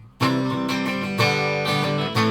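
Strummed chords on a 1984 Yamaha SG200 electric guitar with both original pickups set to outer single coils, several bright, sustained strikes ringing one after another, loud and close with no talking.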